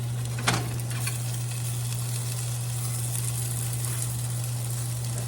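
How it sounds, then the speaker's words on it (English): Steady, dense sizzle of food frying in grapeseed oil in a pan while cooking hot water cornbread, a continuous close crackle with a faint low hum beneath and one brief clink near the start. "See how it's frying up?"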